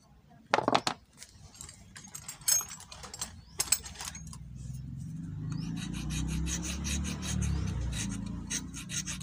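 A few sharp metallic scrapes come first, then a steady rasping rub of a file working back and forth on rusty metal parts of a jammed Cosmos mixer, growing louder and continuous.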